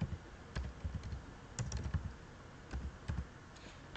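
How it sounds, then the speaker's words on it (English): Computer keyboard keys pressed while working in a word processor, a series of soft, close clicking taps in irregular clusters, quiet with no talking. "on your keyboard, you're going to press enter to add your new paragraph"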